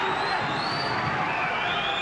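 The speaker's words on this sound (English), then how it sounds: "Crowd making a lot of noise now." Boxing arena crowd roaring and cheering steadily, a dense, loud wall of voices with whistles rising above it, no gaps throughout.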